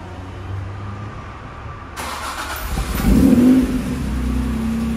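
A Honda NSX 3.0 VTEC engine fires up for its first start after clutch, exhaust and intake work, catching abruptly, then revving briefly and settling into a steady, loud idle close by.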